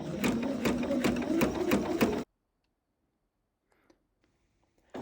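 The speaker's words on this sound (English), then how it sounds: "She sewed each set together, a blue strip, then a white strip, and then a red strip." A sewing machine stitches red, white and blue quilt fabric strips together for a baby quilt, running steadily and close for about two seconds, then stopping into near silence with a faint tap or two.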